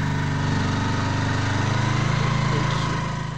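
A motorbike engine runs steadily on a village road in Sirmour, Himachal, a continuous loud droning hum with a pulsing low rumble, heard alone without talk.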